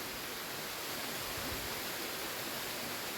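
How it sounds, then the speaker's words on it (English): St Audries Bay waterfall on the Severn estuary shore pours in a dense, steady broadband rush, loud and unbroken with no other sounds. "This has been St Audries Bay Waterfall on the River Severn."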